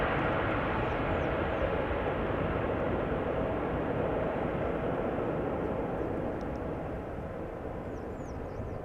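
An airliner departing Amsterdam Schiphol's runway 36L, a broad, steady jet roar that holds strong for most of the stretch and eases slightly toward the end, with no voices over it.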